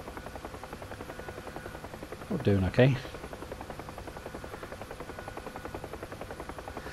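A helicopter in the DCS flight simulator game, crabbing in a side wind, drones with a steady, rhythmic rotor thump throughout, and a voice briefly speaks over it midway.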